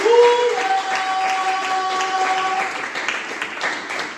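A church congregation applauds during a worship service, steady clapping spread across the room at moderate loudness, with a few sustained organ or keyboard tones sounding early on.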